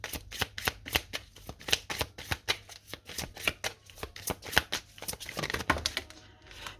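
Tarot cards shuffled in quick, crisp riffling bursts, repeated in a steady rhythm for several seconds, close and fairly quiet with no voices over them.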